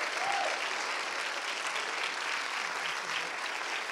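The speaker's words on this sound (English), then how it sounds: "come on, keep clapping" Audience applause at a church service: a steady, continuous wash of many hands clapping, moderately loud and even throughout.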